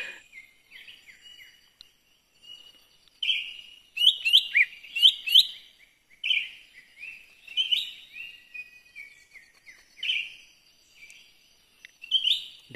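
Cucak ijo birds call in a Sosopan forest in North Sumatra, with bright, varied chirps and whistled phrases coming in irregular bursts, moderately close, over an otherwise quiet background.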